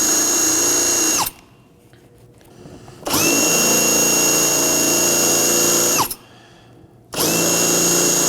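Up close, a power drill grinds out plastic welds on the rear interior door panel of a 2018-2024 Chevrolet Equinox in three loud, whirring bursts, each winding down sharply, with brief quiet gaps between them.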